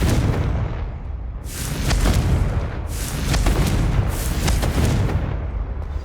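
Confringo fire spell blasts ring out in the Hogwarts Legacy video game, three loud booming bursts in close succession, each with a crackling fiery tail, over a steady low rumble and no talking.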